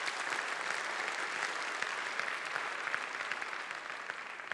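Steady, dense applause from a large conference audience after a lecture, many hands clapping continuously without pause, with no voices over it.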